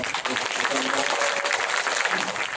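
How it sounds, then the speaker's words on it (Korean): Audience at a Korean author's book lecture in Yangyang claps to welcome the speaker, a dense steady wash of clapping throughout with murmur beneath. "뜨거운 박수로 맞이해주시면 고맙겠습니다"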